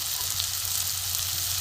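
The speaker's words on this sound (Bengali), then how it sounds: "ভালো করে কষবো মশলাটা" Spices such as turmeric, cumin, coriander powder, green chilli and red chilli powder sizzle steadily in a pan while being fried for ghugni, a continuous close, soft frying hiss.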